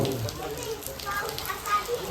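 Steady, dense hiss of heavy rain falling outside, with a voice faintly audible at the very start.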